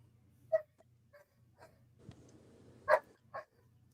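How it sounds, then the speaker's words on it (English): Several dogs bark in short separate bursts, a few sharp barks and yips spread out over a quiet background with a low steady hum, sounding moderately distant. "I hear them barking"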